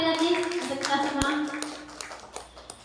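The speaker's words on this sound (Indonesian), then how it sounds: "Tepuk tangan sekali lagi untuk kita semua." Clapping from a group at a school event, a steady mass of hands applauding across the whole span, mixed with voices and a sung or held tone in the background.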